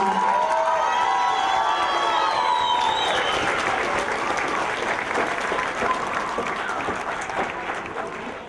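Audience applause with cheering for adult education GED graduates at an evening ceremony, a loud sustained crowd of clapping and shouts that slowly tapers over several seconds, with voices calling out early on.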